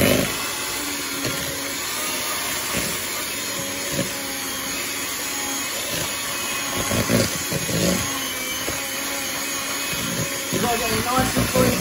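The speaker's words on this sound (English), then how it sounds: "I'm just going to whisk this until it's all creamed" Electric mixer whisking cake batter for an old-school sprinkle traybake until creamed, a steady, close motor whir that runs without a break, with a little rattle and clatter through it.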